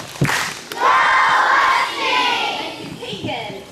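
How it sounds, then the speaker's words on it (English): A crowd of school children at a morning meeting lets out a loud, husky group cheer, a burst of mixed young voices shouting together that rises, holds and trails off. "Let's give Keegan and Ava a big husky cheer."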